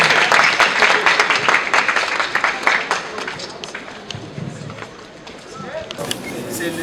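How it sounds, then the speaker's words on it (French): Audience applause at the inauguration of buildings attended by a minister, a dense, loud burst of clapping that slowly thins and fades, with a voice speaking over it near the end. "applaudissons très fortement s'il vous plaît"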